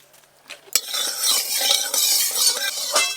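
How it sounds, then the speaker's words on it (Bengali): Vermicelli frying in a little ghee in a pan sizzles steadily after a sharp clatter, while a utensil stirs and scrapes against the pan throughout, close and moderately loud, with no talking. "এবার আমি সিমইগুলো ভেজে নেব ঘি দিয়ে"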